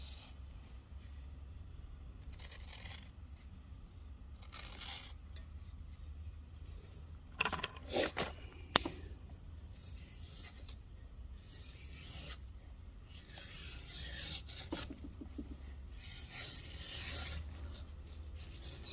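A sharpened round knife slices through heavy leather in slow rasping strokes, soft and close, with a few sharp scraping peaks midway and quiet pauses between cuts.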